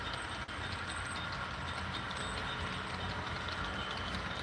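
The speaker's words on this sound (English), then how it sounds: "See if I can get that coal train moving." An HO scale model coal train runs on a Union Pacific Evanston Sub layout, giving a steady low rolling rumble and faint rail hum that carries evenly and quietly through the whole stretch.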